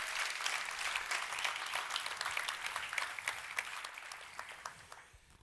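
Congregation applauding and cheering in a church service, a sustained dense wash of claps at moderate distance that thins out toward the end.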